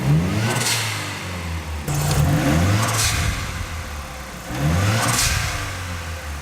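A car engine runs steadily with a low rumble, swelling in three rhythmic surges that bring a whooshing, whistling turbo sound.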